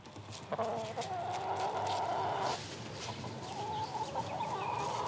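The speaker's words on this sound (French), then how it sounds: "C'est un vrai poulailler." Hens clucking in a henhouse set in a hotel garden, a steady run of close, overlapping clucks and calls carrying on without pause.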